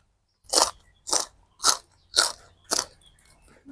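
Five loud, sharp crunching bites from close up, spaced about half a second apart, as someone eats a spicy Thai salad of stink beans and fresh shrimp.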